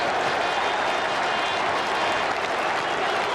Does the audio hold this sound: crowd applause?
yes